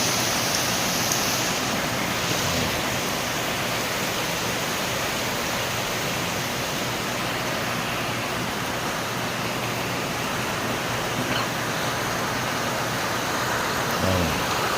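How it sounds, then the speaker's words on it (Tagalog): Heavy rain pours steadily with a light wind, a dense constant roar of falling water filling the scene from start to finish, with no voices. "Kabuhos-buhos lang yung uwan dito mga kaibigan."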